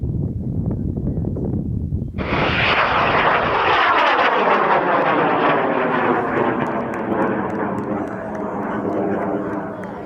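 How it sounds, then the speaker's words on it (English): A model rocket fired on an H motor ignites abruptly after a couple of seconds of low rumble and then holds a loud, sustained roaring burn that slowly thins out as it climbs away. "rocket on H1 is going in 5, 4, 3, 2, 1"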